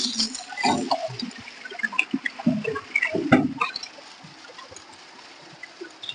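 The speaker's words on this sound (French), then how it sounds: "Ça, c'est l'eau du robinet." Tap water splashing and pouring into a bucket at a Cameroon fish hatchery, with irregular bursts of pouring and sloshing that fade to a quieter trickle.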